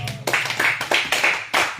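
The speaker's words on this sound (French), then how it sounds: "Est-ce que cet amen peut être accompagné des acclamations?" Members of a church congregation at a Christian revival gathering clap their hands. There are a handful of distinct, rhythmic bursts of claps at a middling distance, separated by brief lulls.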